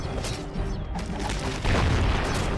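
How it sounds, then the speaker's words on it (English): Cannons fire in battle in the strategy game Settlers: Heritage of Kings, making dense, rumbling booms and crashes that overlap continuously and swell louder partway through. "These cannons are epic."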